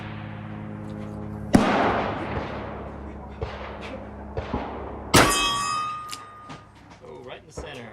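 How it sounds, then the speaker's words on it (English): A Model 29 .44 revolver fires at an outdoor range, two heavy booming shots each answered by a bright ringing clang from a steel target, with smaller knocks and thuds between them. "gonna be ringing some more steel"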